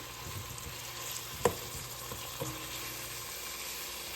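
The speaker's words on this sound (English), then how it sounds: "I wanna make sure that this meat gets browned, guys." Ground meat broken into small pieces browns in a pan, a low steady sizzle close by with a single sharp utensil knock and a lighter tap, no voices.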